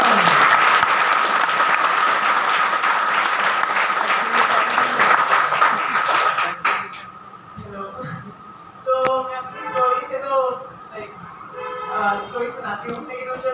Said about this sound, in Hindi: एक बार तालियां तो हो जाए।